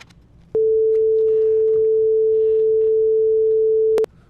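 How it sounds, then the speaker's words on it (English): A steady, pure 440 Hz sine tone holds at one pitch for about three and a half seconds, starting and stopping abruptly, with faint background noise around it. "now we should have a 440 hertz sine wave"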